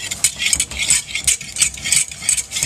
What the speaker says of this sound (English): And we're emulsifying it with a whisk.